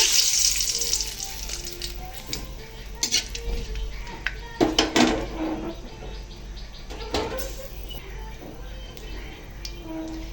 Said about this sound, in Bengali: তেল গরম হয়ে এসেছে এখন দিয়ে দিচ্ছি তেজপাতা